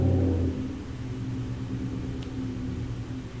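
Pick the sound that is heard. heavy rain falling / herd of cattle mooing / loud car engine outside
loud car engine outside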